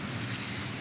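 Rain from an arriving storm patters in a dense, steady hiss on outdoor surfaces, close and continuous with no voices.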